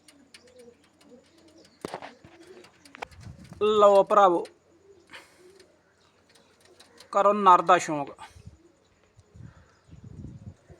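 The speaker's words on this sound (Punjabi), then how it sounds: "ਇਹ ਜਿਹੜੇ ਕਬੂਤਰ ਆ" Pigeons offered for sale coo softly at close range amid scattered clicks and shuffling, with someone speaking in two loud stretches over them.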